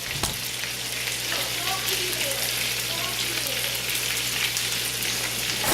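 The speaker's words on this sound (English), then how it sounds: "See that? They're frying up." Meatballs frying in a pan give off a steady, close, bright sizzle with a low hum beneath it, continuous throughout.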